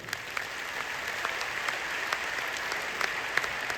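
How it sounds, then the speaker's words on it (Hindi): Large seminar audience of thousands in Patna clapping, a continuous roomy burst of applause with scattered sharper claps, moderately distant and without speech. "तो कैसी ताली होनी चाहिए?"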